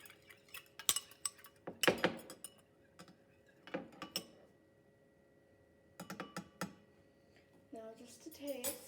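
Eggs and milk being whisked in a bowl for an omelette, quiet bursts of clinking and tapping against the bowl that come in short uneven clusters with pauses between, close by and soft.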